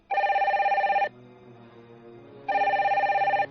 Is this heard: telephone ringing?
yes